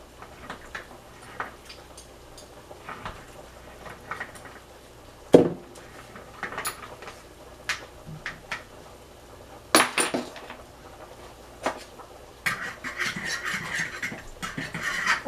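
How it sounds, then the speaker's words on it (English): A spoon stirs three tablespoons of olive oil into foamy pizza dough in a bowl, giving irregular light clinks, taps and scrapes against the bowl, some sharper knocks, and a brief rustle toward the end. "now we're gonna stir in the olive oil"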